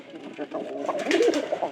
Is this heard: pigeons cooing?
yes